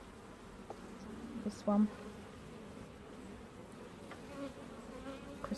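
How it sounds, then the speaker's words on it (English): Honey bees buzz steadily around an open hive during an inspection of a failing colony. The hum is faint and continuous, with a brief spoken remark and a few handling knocks. "And the bees aren't obviously very happy about that particularly"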